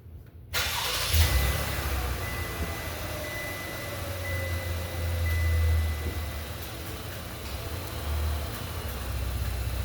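A car in limp mode cranks and starts after a brief silent moment, then settles into a steady close idle with a slight rise in revs midway, engine running loud and alone.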